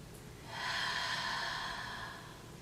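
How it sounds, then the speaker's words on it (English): A single long, deep inhale drawn in during a plus-size yoga hip and hamstring flow, close and steady, swelling for about a second and a half before easing off, with no talking. "And taking nice deep breaths in."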